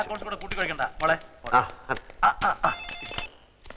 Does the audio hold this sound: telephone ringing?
yes